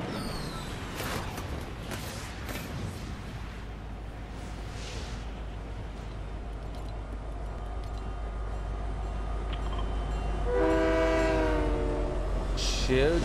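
A train in the Fortnite video game rumbles steadily throughout, with a horn-like tonal blast sounding near the end, while faint game effects sit underneath.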